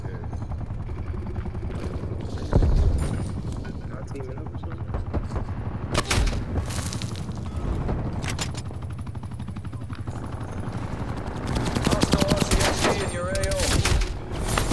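Rapid bursts of automated turret gunfire during a video game raid, loud and close, with repeated volleys and heavy rumbling over a steady background din; no clear speech.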